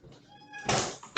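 A pet cat meows at a door as it is opened, a tonal mew followed by a louder rustling burst and a final sharp noise, close and alone with no talk.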